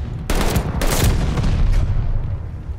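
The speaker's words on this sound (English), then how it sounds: "Friendly mortar fire coming." Mortar fire in the World War II shooter Call of Duty: Vanguard, team deathmatch: a loud burst of heavy explosive blasts and rumbling gunfire, two sharp impacts up front, then sustained booming and crackle.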